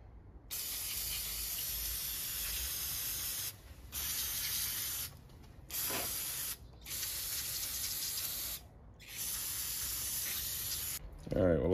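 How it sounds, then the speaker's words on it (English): Cleaner sprays around the engine of a 2009 Honda Odyssey to flush out oil, in several sustained hissing bursts separated by short pauses, close and steady, ending with a brief voice. "so I just want to get all that sprayed out."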